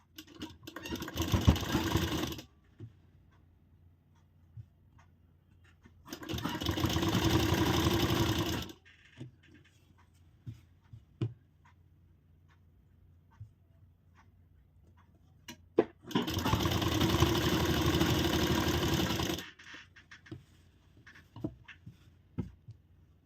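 Sewing machine running in three steady bursts of several seconds each, stitching a double-folded blouse hem, with quiet pauses and small handling clicks between runs.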